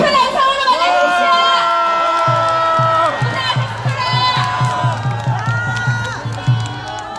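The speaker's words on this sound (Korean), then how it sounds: "여러분 큰 함성으로 맞아주십시오." A crowd at a political rally cheers and shouts to welcome a speaker onto the stage, loud and close, with voices, whoops and raised shouting under music-like tones.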